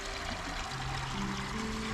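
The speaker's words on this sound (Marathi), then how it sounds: "तर नळाच्या पाण्याने या नारळाला पाणी घालणार." Tap water pours onto a coconut plant in a Konkan village, making a steady, close splashing trickle that runs evenly from start to finish.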